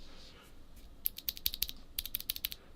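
Blue clicky switches on a Redragon Vata mechanical keyboard, struck in a quick irregular run of sharp, bright clicks close up, beginning after a brief quiet pause.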